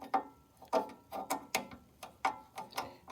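Small metal screws on a carburetor being loosened with a screwdriver give a string of faint, sharp ratcheting clicks and creaks, about eight in a row, evenly spaced and close by.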